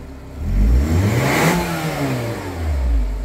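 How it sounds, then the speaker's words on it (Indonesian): A Nissan Serena engine revs up and back down, the pitch rising sharply then falling, loud and close, followed by another climb. "Setelah selesai itu suara mesin super halus"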